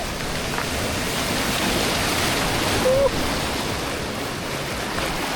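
Rushing river rapids in the jungle near Chiang Mai, Thailand, roar as a dense, steady wash of white noise throughout, close and loud, with a brief faint tonal sound partway through.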